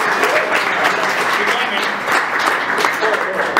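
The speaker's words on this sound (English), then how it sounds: "Let's give a quick round of applause to Jeff." Loud, dense applause from a SecKC meetup audience for speaker Jeff, many hands clapping steadily and close throughout with no break.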